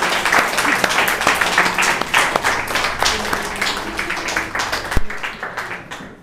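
A church congregation applauds the Holy Spirit during worship, with steady, dense clapping close by and voices mixed in, ending with a sharp tap near the close.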